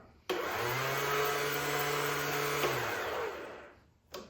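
A Honda CT70 motorcycle starter motor, fitted with a Zongshen 190cc/212cc engine, whirs steadily for about two and a half seconds, a whining electric spin that winds down and stops, followed by a brief click; the engine does not start.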